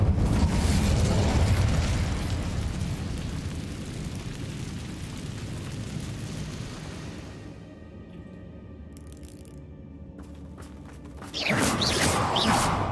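Incendio fire spell in Hogwarts Legacy: a loud whooshing burst of flame that roars then slowly fades over several seconds, followed by faint magical chimes and a second sudden fiery blast near the end.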